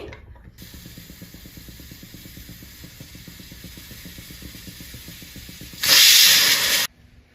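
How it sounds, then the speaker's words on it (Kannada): A pressure cooker cooking lentils (toor dal): a steady rhythmic chuffing hiss of escaping steam, then a loud, full whistle burst lasting about a second before it cuts off sharply. "ಸೊ ಪಾತ್ರೆಗಿಂತ ಕುಕ್ಕರ್ ನಲ್ಲಿ ಸ್ವಲ್ಪ ಈಸಿ ಮೆಥಡ್ ಅಂತ ನಾನು ಕುಕ್ಕರ್ನಲ್ಲಿ ಬೇಳೆನ ಬೇಯಲಿಕ್ಕೆ ಹಾಕ್ತಾ ಇದ್ದೀನಿ"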